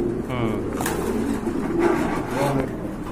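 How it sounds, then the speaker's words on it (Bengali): Racing pigeons coo softly in low, rolling bursts, close by, with a few repeated calls over a quiet room and faint talk nearby. "এই যে একটা কবুতর দেখেন, এটা পুরো সেম সমান আছে, এক সমান।"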